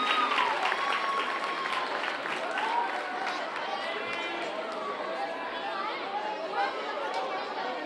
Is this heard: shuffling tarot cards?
no